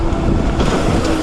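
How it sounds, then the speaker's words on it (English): Strong wind buffets the microphone outdoors on an early autumn day, a loud, continuous low roar and rumble filling the whole moment with no voices. "So windy."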